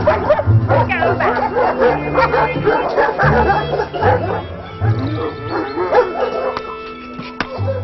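Many dogs at a home in Surrey bark, yip and whimper together in a dense, loud, continuous chorus close by, with a repeating low musical tone underneath.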